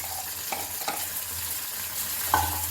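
Ground pepper, cumin, garlic and coriander spices sautéing in a pan for sambar and rasam, a steady soft sizzle with a few light stirring scrapes, close and alone.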